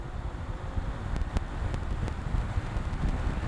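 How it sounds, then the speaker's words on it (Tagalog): An electric fan on bushings rather than bearings blows air at around 8 to 10 watts with a steady, soft rushing whoosh, low and even, with a few faint ticks near the start. "Maganda na yung hangin niya sa 8 watts, 10 watts."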